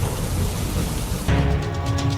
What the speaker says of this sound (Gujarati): ભર ઉનાળે ભારે પવન સાથે વરસાદ સાથે કરા પણ પડ્યા.